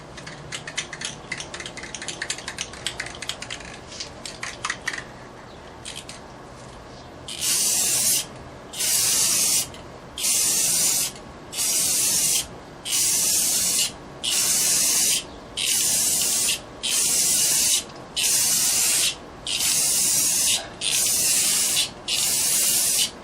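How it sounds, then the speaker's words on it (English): A spray gun lays clear coat onto steel wheel rims in a long series of evenly spaced hissing bursts, each a couple of seconds long, loud and close, after a softer stretch of rustling. "So this is the very last coat of clear."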